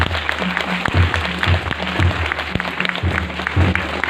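An audience at a state-level children's science festival in Gopeshwar, Chamoli claps in steady, sustained applause over a low hum, fairly close, with a faint voice underneath.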